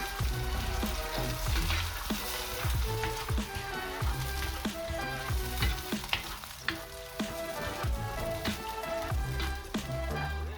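Cherry tomatoes with their juice are stirred into cooked garlic and onion in a pan while making shakshuka. A steady close sizzle runs under repeated scraping and clattering strokes, with no talking.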